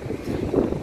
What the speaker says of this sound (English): Ang ganda pakinggan ng mga alon.